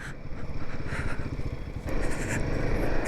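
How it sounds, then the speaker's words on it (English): A Royal Enfield Himalayan 450 motorcycle engine runs on the road with a buzzing, higher-pitched vibration and steady wind noise, with a slight rise in intensity partway through. "It is quite noisy, but it's got like a more higher pitch vibration"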